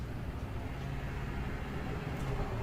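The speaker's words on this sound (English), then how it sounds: "A car goes by." A car drives past outdoors, heard as a faint, steady low rumble of engine and road noise that swells slightly near the end, set against a quiet background with no speech.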